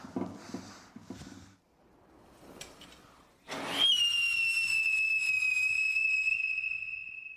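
A few faint knocks and rustles, then a firework whistle bursts in with a shrill, sustained tone that slowly drops in pitch and keeps screaming to the end.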